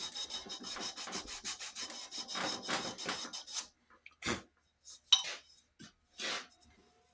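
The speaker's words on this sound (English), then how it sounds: "for a final finish, I like to take a little sandpaper" Sandpaper rubs back and forth along a wooden axe handle in a quick run of close, dry strokes, then a few slower, separate passes with pauses between them.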